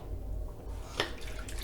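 Water splashed onto the face during a wet shave: faint soft drips and one brief wet splash midway, then light trickling, quiet and close.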